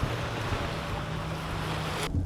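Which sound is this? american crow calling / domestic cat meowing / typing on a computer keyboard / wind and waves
wind and waves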